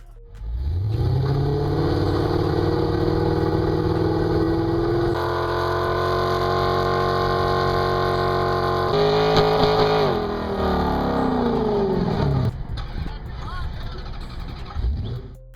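A 2005 Dodge Magnum SRT8 engine accelerates hard and loud, rising in pitch through the gears with a shift partway through, then revving up again before easing off near the end.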